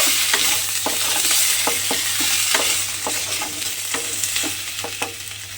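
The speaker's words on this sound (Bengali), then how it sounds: "আদা আর মৌরি বাটাটা দিয়ে আমি আবারও একটু ভালোভাবে মিশিয়ে নেব" Potato curry for aloo dum gets stirred with ginger and fennel paste, a steady sizzle under repeated rhythmic scrapes of the spoon across the pan, close and fairly loud.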